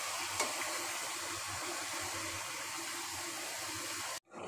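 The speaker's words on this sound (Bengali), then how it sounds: "নাড়াচাড়া করে দেওয়া হলো" Stirring bottle gourd curry with drumsticks in a large wok over the heat, a continuous hissing sizzle with a soft scrape near the start, ending in an abrupt cutoff; nobody speaks.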